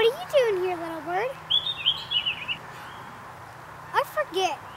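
A small bird gives a short run of high chirps up close in Aspen in early March, between stretches of a person talking nearby.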